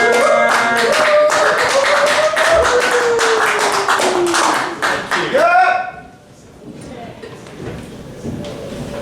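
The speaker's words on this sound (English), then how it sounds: "Make some noise for James Miller!" A comedy club audience claps and cheers loudly with whoops over the applause as a comedian is welcomed to the stage, which fades out abruptly, leaving quiet room noise.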